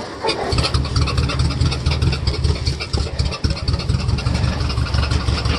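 A vehicle engine runs steadily as it pulls a loaded firewood trailer forward, a continuous low, mid-pitched hum close by with slight load changes and no talk.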